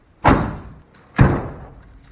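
Two solid car door slams about a second apart on a 1954 Bel Air four-door, each a heavy thud with a short rattling decay, close by with no talking.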